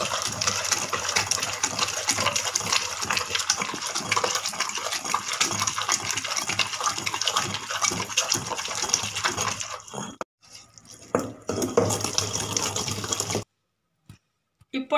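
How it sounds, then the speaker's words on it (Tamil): Mint and coriander chutney is ground in a traditional stone wet grinder, giving a close, continuous rhythmic scraping and churning that breaks up near the end before stopping. "இப்போ ஆட்டாங்கல்ல போட்டு நாம் ஆட்டுறோம்."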